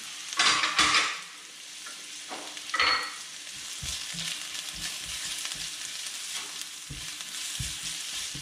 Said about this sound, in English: while I'm sauteing my onions, I like to add a little bit of salt